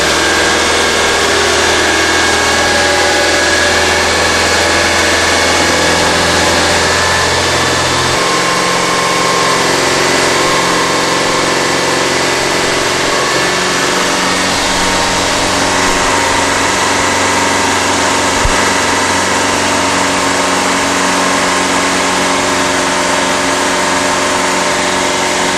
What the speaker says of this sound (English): the RPM of the engine is reduced to 2400 RPM